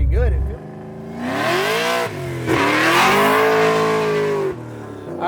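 A supercharged 900hp Mustang Cobra's engine revs loud and close, its pitch climbing and holding in long sustained pulls with brief dips between them over about five seconds.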